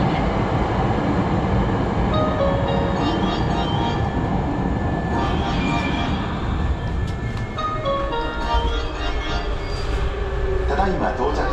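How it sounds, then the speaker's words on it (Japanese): A limited express train bound for Kyoto-Kawaramachi rumbles into Hankyu Takatsuki-shi station, steady loud rolling noise with some metallic squeal and clatter, faint voices mixed in. "まもなく京都河原町方面へ向かう電車が到着します。"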